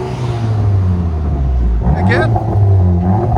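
A loud, close engine note from a 2015 Audi A3 Quattro fitted with a high-flow cat and a muffler delete. It rumbles steadily, then swells in a brief rev, and a voice speaks over it.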